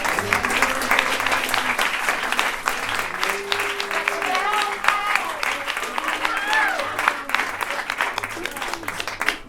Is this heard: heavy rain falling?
no